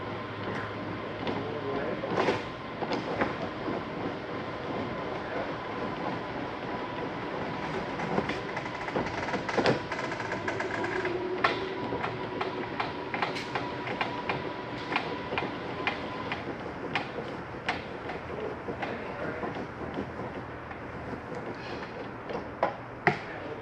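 A hand crank on a 2018 Keystone Bullet 172RBCT travel trailer turns to wind out the RV awning, giving a steady run of close, rapid ratcheting clicks and ticks.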